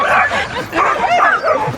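An excited sled dog yips, whines and barks in quick bursts close by, with a person's voice mixed in.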